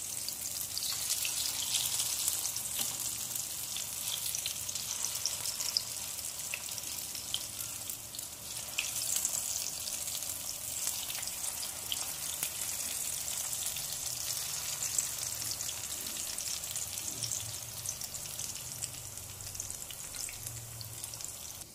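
Mutton galouti kebabs sizzle steadily in a hot pan, a continuous crackling hiss with small pops that runs unbroken and close, with no talking.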